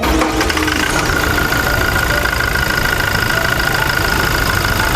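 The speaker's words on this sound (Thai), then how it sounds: "เดี๋ยวเราไปฟังเสียงเครื่องยนต์กันเลย" A 2024 Toyota Hilux Revo 2.4 Prerunner double-cab pickup engine idling up close, a loud, steady rumble with a fine ticking rhythm and a faint whine on top, no voices.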